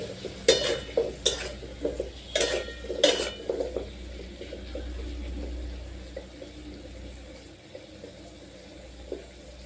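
Turmeric and chilli powder frying in oil in a pan, with several sharp metal scraping and clanking strokes of stirring in the first few seconds over a low steady sizzle that continues alone.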